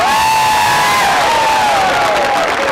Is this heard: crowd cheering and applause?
yes